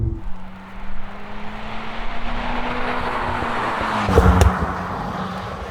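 Mitsubishi Lancer Evo X with a manual gearbox driven hard, the engine droning at high revs with a brief louder surge near the end, heard from inside the car with no talk.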